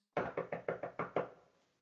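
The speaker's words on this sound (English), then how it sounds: "knock, knock. Oh, never at quiet." Knocking on a door in a Macbeth audio play: six firm knocks in a steady, even rhythm, loud and close, with a short ring-out after the last.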